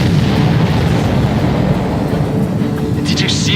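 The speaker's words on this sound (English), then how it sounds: "Did you see that explosion?" A dense, loud roar from an exploding enemy ship in Ace Combat 7 rumbles continuously with heavy low-end boom, while a voice speaks briefly near the end.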